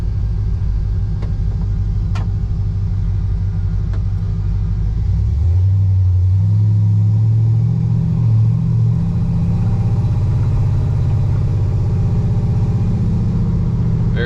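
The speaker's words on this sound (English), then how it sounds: "Very smooth shifting truck." A 1953 Chevrolet 3100 pickup truck drives along a road, its engine rumbling steadily and loudly from inside the cab, with a gear shift partway through where the engine note drops and then climbs again.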